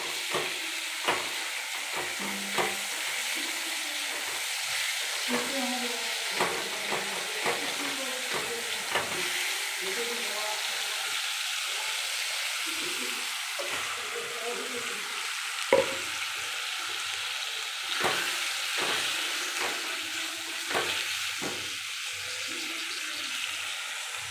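Spiced masala paste fries in oil for a vegetarian chana masala, a continuous moderate sizzle with repeated scrapes and taps of a spoon stirring through it, no one talking.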